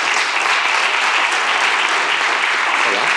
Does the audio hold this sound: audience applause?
yes